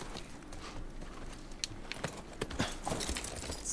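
Horse hooves clip-clop at a walking pace in The Last of Us, a run of fairly faint, irregular hoof strikes over a low game ambience.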